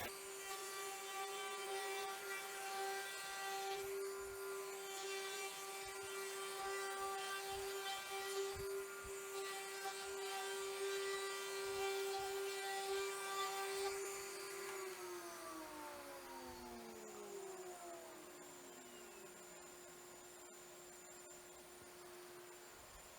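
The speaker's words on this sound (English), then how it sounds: "I'm going to take around these edges here and do an 1/8 inch round over." Router spinning a 1/8 inch roundover bit along the edges of a subwoofer enclosure for a Memphis VIV 65 Series 14-inch sub, a steady high whine that holds for about fourteen seconds, then spins down with falling pitch.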